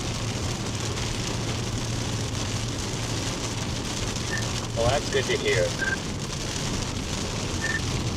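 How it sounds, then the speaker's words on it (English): Heavy rain drums steadily on a car driving eastbound on I-88 during severe weather, a dense constant wash with road rumble beneath, while a person speaks briefly in the middle. "it's dumping rain pretty good"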